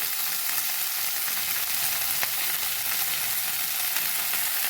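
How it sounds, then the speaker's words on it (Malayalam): Drumstick leaves with turmeric sizzle steadily in a frying pan as they are stirred, a dense, even hiss heard alone without pause. "മുരിങ്ങയില ഇളക്കി കൊടുത്ത് ഇനി ഞാൻ ഇതിലേക്ക് കുറച്ച് മഞ്ഞൾപ്പൊടി ഇട്ട് കൊടുക്കുന്നുണ്ട്."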